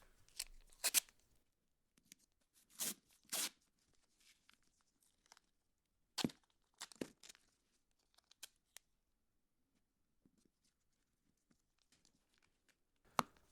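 Tape is torn and pressed in layers onto the back of a Nuphy Air 60HE keyboard, making sharp ripping bursts and soft crinkles spaced out over quiet pauses, close and fairly faint.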